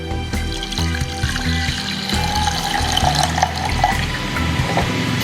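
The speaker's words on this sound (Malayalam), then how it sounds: "നമുക്കിതിലേക്ക് ബാക്കി ആൽമണ്ട് മിൽക്ക് നമ്മൾ റെഡിയാക്കി വെച്ചിട്ടുണ്ട് ഇതും ചേർക്കാം" Almond milk pours into a saucepan, a close, continuous liquid splash and gurgle with a few clinks, steady throughout and with no talking.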